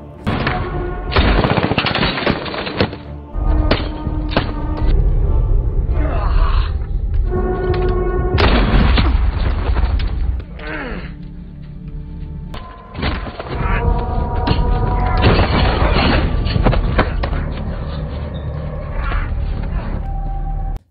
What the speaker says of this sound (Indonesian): Mike dan Rusty saling tembak hingga keduanya tewas